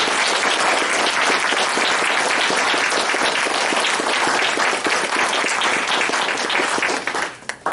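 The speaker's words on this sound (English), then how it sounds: "Let's give them a big round of applause." A large audience at a candidate forum gives sustained, dense applause for the candidates, loud and continuous for about seven seconds before it tapers off abruptly.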